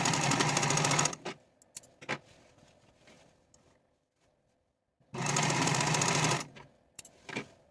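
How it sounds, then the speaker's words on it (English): A serger runs in two loud, steady bursts finishing the raw edges of a fabric skirt facing, separated by quiet handling noises and fabric rustling. "Now I'm going to take the edges of my facing to the serger and finish those raw edges on both sides."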